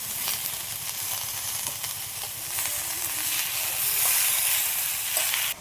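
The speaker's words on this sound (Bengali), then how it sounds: "এবার দিয়ে দেবো পালং শাক।" Fresh spinach hits a hot pan of dal seasoned with salt and turmeric, setting off a steady, loud sizzle and hiss that swells slightly toward the end, with no talking.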